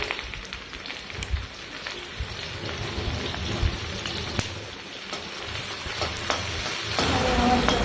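Two long-sliced onions frying in hot oil for a stuffed karela dish, a dense crackling sizzle with sharp pops scattered throughout, growing slightly louder toward the end, close by and with no talking.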